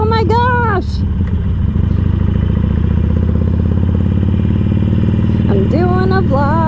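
A Harley-Davidson Sportster motorcycle rides through a puddle, its loud steady engine rumble filling the whole stretch close by, with a clattering splash early on and brief rising whistles of wind over the engine.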